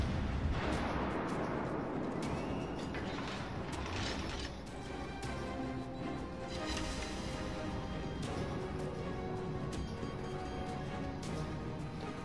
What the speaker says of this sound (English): I'm firing at a battleship